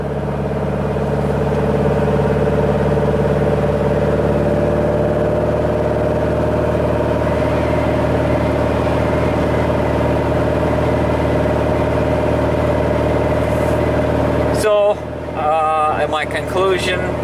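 A Volkswagen 2110 fitted with a large exhaust idles steadily with a low, even engine hum, close and continuous, and a brief voice comes in near the end.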